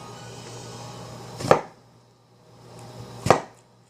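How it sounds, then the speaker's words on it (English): A knife cuts through fruit slices for a salad with two distinct, evenly spaced chops against a board, each a crisp thud with quiet between them and no voices. "Cut it 4 to 5 times."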